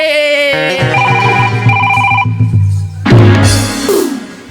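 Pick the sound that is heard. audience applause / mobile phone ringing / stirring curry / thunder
mobile phone ringing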